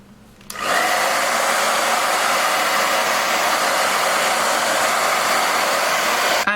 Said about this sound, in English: I'm gonna blow dry it to just kind of mold the baby hair a little bit